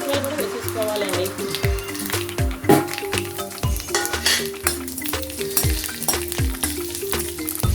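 Mustard seeds, spices and dried red chillies sizzle and crackle in hot oil for a coconut curd chutney tempering, with a spoon clinking and scraping against the pan over music.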